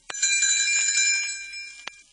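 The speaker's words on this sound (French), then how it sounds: "Elle fera tinter ses petites cloches" Small bells ring as a page-turn signal for a storybook, a bright shimmering chime struck once and sustained, then a second short strike near the end, close and clear.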